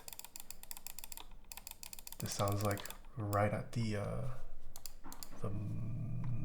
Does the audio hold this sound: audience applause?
no